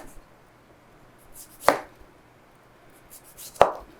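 Two crisp, separate knife strokes cut through limes onto a cutting board, each a sharp close thunk, with quiet gaps around them.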